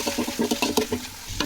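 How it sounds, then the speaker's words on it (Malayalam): Curry leaves and fennel seeds hit a pan of softened onions with a crackling sizzle, stirred in quick rhythmic scrapes and sputters, close and steady with no one speaking. "കറിവേപ്പില കുറച്ച് വലിയ ജീരകം ഇട്ട് കൊടുക്കാം."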